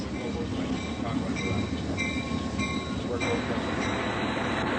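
A passenger train rolls steadily along the rails, a dense continuous rumble with faint high wheel squeals and clicks running throughout.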